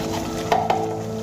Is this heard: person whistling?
no